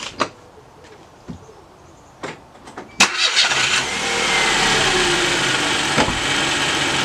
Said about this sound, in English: Start the car and we'll try again with a bit more power